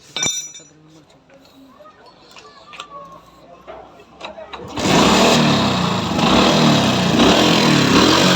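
A 2002 Kinetic Boss motorcycle engine starts after some quiet clinking and ticking, then settles into a loud, steady, close running rattle.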